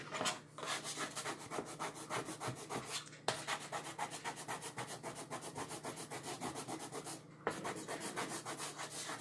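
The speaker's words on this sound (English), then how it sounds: "You also need a board eraser or a magic eraser." A board eraser rubs chalk off a reusable frame surface in quick, rhythmic back-and-forth strokes, a close dry scrubbing with two brief pauses.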